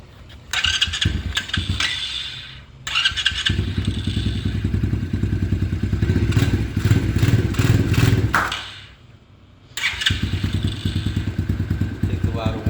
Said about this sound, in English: So you can see it takes a little longer to turn on, but this is what my dirt bike sounds like